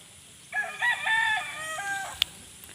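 A rooster crows once, a single clear drawn-out call at moderate distance on a dragon fruit farm, with quiet background noise and a sharp click near the end.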